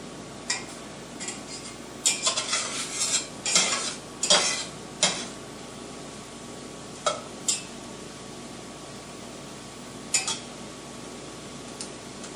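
Mushrooms and onions browning in a pan, with a low sizzle under scattered scraping and clinking stirs that bunch into a busy flurry, then ease to occasional single strokes, close and with no talking.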